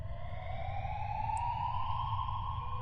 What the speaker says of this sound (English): Then the alarm went off.